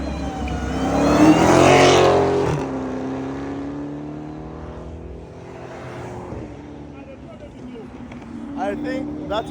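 Several cars, including a Dodge Hellcat and BMW M5s, rev and pull away from a fuel station at night in Mexico, a loud engine surge early that fades as they leave, with people talking throughout.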